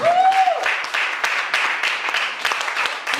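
An audience at a comedy show claps for a comedian, a steady wash of dense applause lasting the whole stretch with a brief whoop at the start.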